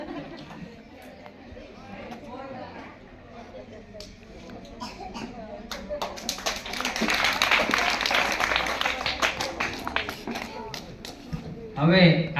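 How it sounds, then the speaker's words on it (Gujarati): Audience at a primary school farewell ceremony breaks into applause, the clapping swelling from a low murmur of chatter to a dense, sustained burst that peaks midway and then tapers as talk continues underneath. "ખૂબ તાળીઓ બતાવીએ."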